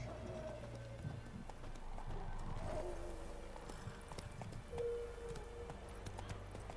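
The horse Roach gallops in The Witcher video game, a steady run of faint hoofbeats with a soft, continuous background.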